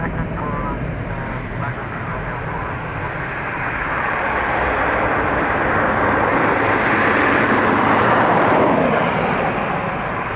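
A Ryanair airliner landing on runway 10 right at Dublin Airport makes a broad roaring engine rumble that swells gradually toward the end, heard from a distance at an outdoor spotting point.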